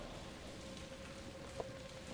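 Rain falling in the Sherlock Holmes The Awakened video game, a steady, soft hiss of drops on surfaces with a faint tone running underneath and one small knock partway through.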